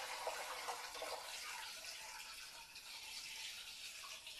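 Hot homemade turkey stock poured through a strainer, a steady broadband splashing and trickling of liquid that runs continuously and fairly faintly throughout, with no voices.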